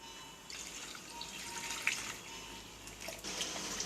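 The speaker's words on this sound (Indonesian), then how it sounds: "Indigo kita aduk sampai rata dengan air dingin setengah liter." Indigo powder stirred into half a litre of cold water gives faint, soft liquid swishing and dripping, continuous and quiet, with a few brighter splashy moments.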